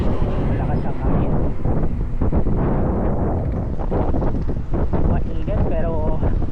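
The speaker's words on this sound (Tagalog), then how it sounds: "napakaganda ng C6, malakas ang hangin" Strong wind buffets the microphone while riding a bicycle along C6 in Manila, a loud continuous rumbling roar with a voice talking underneath.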